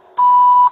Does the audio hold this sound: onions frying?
no